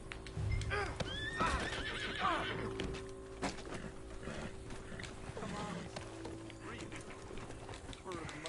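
A horse in Red Dead Redemption 2 lets out a loud whinny near the start, followed by steady clip-clop hoofbeats and outdoor ambience, with voices talking in the background.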